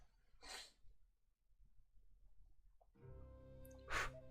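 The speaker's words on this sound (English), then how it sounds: "Sorry, I have to sneeze." A single sharp sneeze bursts out near the mic, followed after a pause by a second loud sneeze-like burst over low murmuring and background sound.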